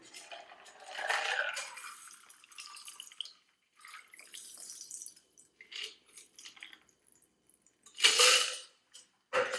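A vodka gimlet pours through a cocktail strainer, liquid trickling and dripping in short splashy bursts, with small clinks of metal and glass, ending in a sharp clatter near the close.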